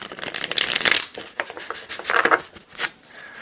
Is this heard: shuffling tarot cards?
yes